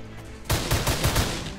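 Magnum fire in the sci-fi shooter video game Orion: Prelude: a quiet lead-in, then a loud run of about six sharp shots in quick, even succession.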